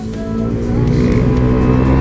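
A vehicle engine drones and climbs in pitch as it accelerates in gear during a ride in Tarlac, loud and close, steady with no talking.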